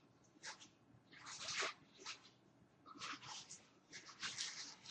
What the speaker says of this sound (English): that's my dog Ayla chewing on a bag